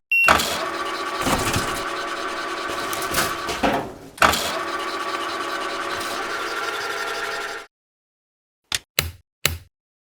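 A video-game garbage truck engine runs with a steady mechanical drone for several seconds, cuts off, then gives a few short bursts after a silence.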